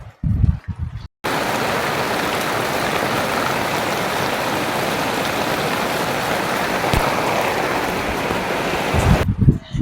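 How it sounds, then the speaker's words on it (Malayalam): Heavy morning rain pours down in a loud, steady, dense hiss for several seconds, with short quieter moments at the very start and end. "രാവിലെ നല്ല മഴ പെയ്തുകൊണ്ടിരിക്കുക കേട്ടോ"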